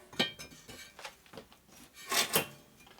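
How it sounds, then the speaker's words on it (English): Honing stone worked inside a 1947 Harley-Davidson EL knucklehead 74ci motor cylinder, giving close, quiet rasping strokes in uneven bursts, with two stronger scrapes near the end. "So we know this stone cuts more on the inside, so I'm going to hone it this direction only."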